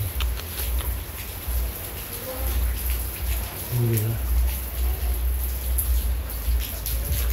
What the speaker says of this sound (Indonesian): hujan yang tidak berhenti-berhenti guys wow